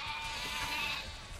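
Sheep bleat in the fantasy game Overlord, a steady wavering cry that carries fairly loud and close for the whole short stretch, with no voices over it.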